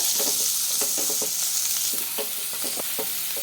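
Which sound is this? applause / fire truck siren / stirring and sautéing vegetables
stirring and sautéing vegetables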